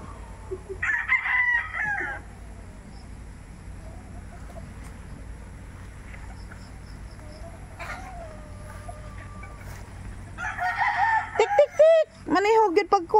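A rooster crows loudly at the start and again near the end, with other fowl calls and a brief crow in the middle, over a quiet outdoor background.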